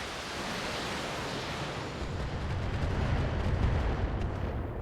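Mortar shells slam into a mech in the BattleTech video game, producing a continuous roaring wash of explosive rumble that builds slightly in loudness, with no talk over it.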